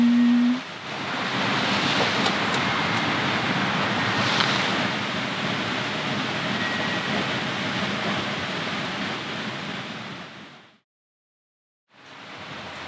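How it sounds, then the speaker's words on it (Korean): A valley stream beside a campsite rushes steadily and close, a loud, even wash of water noise that drops out briefly near the end before returning. "옆에 계곡 물소리가 계속 백색소음처럼 들려서 그런지 진짜 잘 잤어요"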